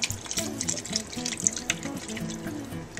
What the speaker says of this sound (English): I'm going to add the rest of the liquid here